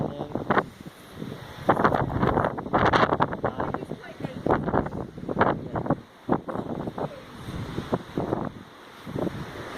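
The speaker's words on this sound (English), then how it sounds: "Everything's just so windy, like stuff just going everywhere." Strong night wind in Ibiza buffets the microphone in gusty bursts, mixed with loud, irregular rumbling, as someone talks intermittently over it.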